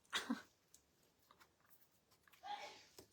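A single quick human sneeze close up at the start, followed by faint room noise and a brief voice later in the quiet recording.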